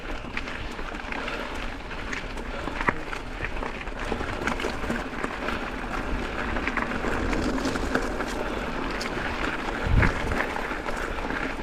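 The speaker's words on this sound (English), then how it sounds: "There's the headwind." Headwind buffets the microphone on the Blowing Springs Loop trail in Bella Vista, Arkansas, a continuous rushing roar that stays loud throughout with occasional sharper gusts.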